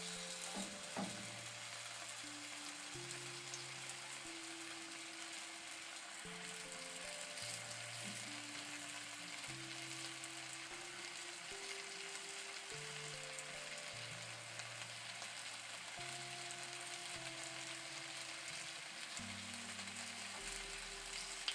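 Potatoes fry in oil in a pan over low heat, giving a steady, even sizzle that runs continuously beneath tonal background music.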